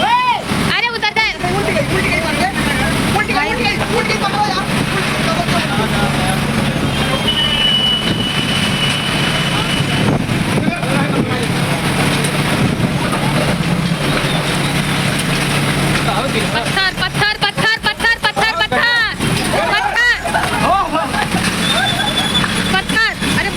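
A violent hailstorm driven by strong wind rattles and roars continuously and loudly, with dense broadband clatter of ice striking surfaces; excited voices shout over it throughout.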